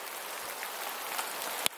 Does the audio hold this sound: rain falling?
yes